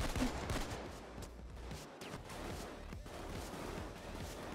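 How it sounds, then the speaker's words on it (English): Sustained gunfire in the Payday 2 video game, a dense, continuous volley of shots with bullets whizzing past, steady and loud throughout with no pauses. "There's just fucking bullets flying past"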